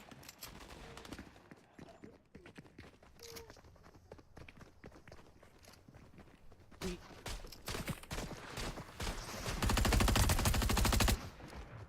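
Fortnite gameplay with footsteps and scattered gunfire, building to a loud sustained burst of rapid shots near the end, with game sounds throughout.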